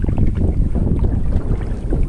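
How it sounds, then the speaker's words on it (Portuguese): Strong wind buffeting a microphone beside the Aguapeú river in Mongaguá, a loud, continuous low rumbling roar with gusty fluctuations and no voices. "Bateram um vento aí, né, pessoal?"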